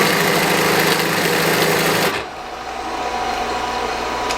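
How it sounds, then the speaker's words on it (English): A sewing machine with a clutch and half-horsepower motor runs loud and steady, then drops to a quieter hum as it winds down. "with that clutch and half horsepower motor, it is a powerful machine that'll go through anything that I put under it."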